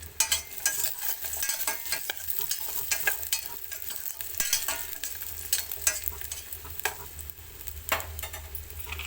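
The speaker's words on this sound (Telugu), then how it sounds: "ఇందులో జీడిపప్పులు ఫ్రై చేసుకోవాలండి" Cashew nuts frying in ghee with a steady crackling sizzle and frequent sharp stirring clicks of a spoon against the pan, close and fairly loud, with no voices.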